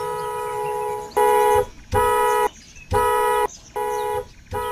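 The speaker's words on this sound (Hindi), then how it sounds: "कौन है जो इतनी तेज हॉर्न बजा रहा है?" A loud electronic horn blares in four repeated bursts, each about half a second long, with short gaps between them.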